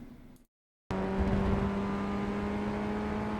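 Formula Ford FF1600 race car engine in iRacing held at full throttle, a loud steady high drone after a brief gap of silence, sustained with no lift.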